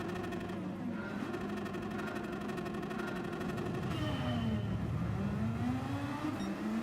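Race cars pull away from the start in Gran Turismo 7, engines whining and climbing in pitch as they accelerate, a layered steady drone of several cars with a gear shift midway, no voices.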